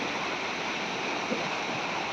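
River water rushing steadily past a farm, a constant close hiss and gurgle of flowing water with nothing else over it.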